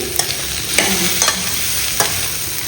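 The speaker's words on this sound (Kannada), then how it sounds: "ಈರುಳ್ಳಿ ಕಾಯಿ ಮೆಣಸು ಹಾಕಿ ಇದನ್ನು ಸ್ವಲ್ಪ ಹೊತ್ತು ಬಾಡಿಸುವ" Onion and chilli sauté in a hot pan, a steady loud sizzle broken by four spaced scrapes of a spoon stirring.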